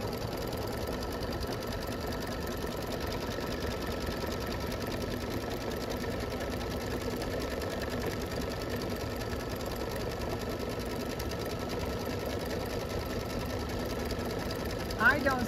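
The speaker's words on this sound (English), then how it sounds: "Push this down and let's watch it do the satin stitch." A Scan n Cut machine runs a steady, continuous satin stitch around the edges of an applique, its even mechanical whirr close and unbroken for the whole stretch.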